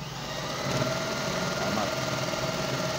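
Brother 999 electric zigzag and straight-stitch sewing machine running steadily, a continuous whirring motor hum with fast mechanical stitching rattle, close and fairly loud, no talk over it.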